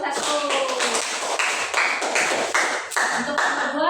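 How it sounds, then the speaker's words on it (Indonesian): Children clapping together in a fifth-grade classroom, a quick run of fairly close, loosely rhythmic claps lasting a few seconds, with a voice over the start. "Tepuk tangan untuk kelompok 1"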